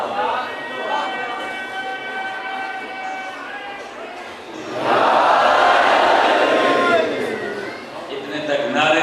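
A large crowd at a Muharram majlis in Besti Sargani, Layyah, roars slogans in unison, a dense swelling chant that surges louder halfway through and stays sustained, with a voice beneath it at first.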